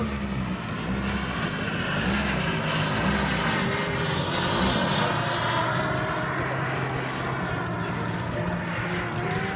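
Twin jet engines of a quarter-scale radio-controlled Fouga model whine and roar steadily as it flies at an air show at Morlaix airport, a loud sustained whistling rush with no voices.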